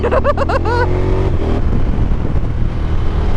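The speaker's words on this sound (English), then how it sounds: "Big lorry!" A loud lorry engine roar sweeps past close by, heard from a motorcycle in Scotland, its rising whine fading into steady rumbling road noise.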